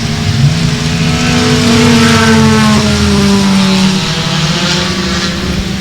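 Bomber-class race cars roaring at the start of a championship-night race, several engines revving loudly together with rising and falling pitch, a dense close-up wall of engine noise and no talk.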